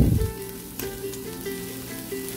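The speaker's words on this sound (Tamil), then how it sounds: "தக்காளி வந்து நல்லா வதங்கட்டும்" Chopped tomatoes go into a pan of sautéing onion masala for a soya chunks biryani, starting with a brief thump as they land, then a soft, steady sizzle with faint crackles.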